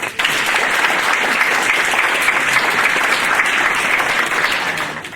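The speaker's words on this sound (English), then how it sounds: "let's give them a round of applause" An audience at an employer recognition ceremony claps in a dense, sustained round of applause that fills the room, then tapers off toward the end.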